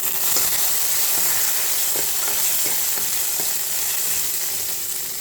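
Cumin seeds, curry leaves and two dried red chillies fry in hot oil in a pan for a quick rasam, a loud, steady sizzle. Light scrapes of stirring break through at regular intervals, with no voices.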